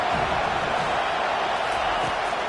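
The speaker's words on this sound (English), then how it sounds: "This crowd bringing the energy and noise early." Stadium crowd at a Purdue versus USC college football game, a dense, continuous roar of cheering and noise filling the space at steady loudness.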